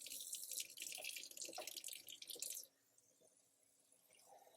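A kitchen tap runs water close by for nearly three seconds, a bright hissing splash that cuts off abruptly and leaves faint room noise.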